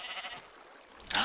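A sheep in the Minecraft video game bleats in a short, clear burst near the end, after a quieter stretch of faint game sound.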